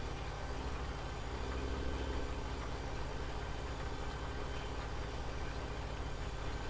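A tractor engine idles in the farming game Farming Simulator 17, a faint, even mechanical hum that holds steady and unbroken throughout.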